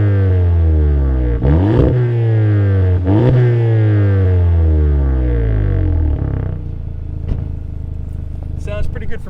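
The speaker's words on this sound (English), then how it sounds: "I'll put the camera down on the ground and rev the engine a little bit so you can hear how this engine sounds" A 2019 Volkswagen Golf GTI with an aftermarket exhaust, recorded from a camera on the ground, revs sharply a couple of times, each rise falling back smoothly, then settles to a loud, close idle.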